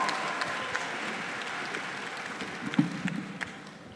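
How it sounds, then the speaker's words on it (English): Applause from an audience at a graduation ceremony, moderate and fairly distant, a steady wash of clapping that gradually fades over a few seconds. "can I get a round of applause for our Vice Chancellor of Student Affairs, Dr. Brian Haynes."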